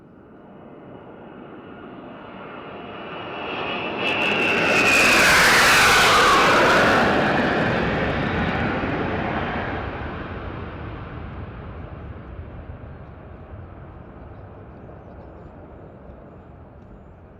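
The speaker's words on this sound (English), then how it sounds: "You can see three Su-30 aircraft approaching the quarterdeck." Three Su-30 jet fighters roar past over a passing out parade ground, rising to a loud broadband swell with a whining high-pitched edge around the midpoint, then fading into a long, steady rumble as they pull away.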